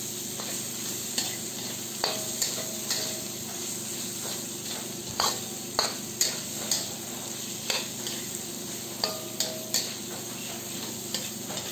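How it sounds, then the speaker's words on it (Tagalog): Sliced seared pork chop sizzles in a pan as it is sautéed, steady frying hiss with regular sharp clinks of a utensil stirring against the metal, close and unaccompanied by speech. "Hiniwa lang natin ito ng medyo maliliit. Gisayin lang natin yan."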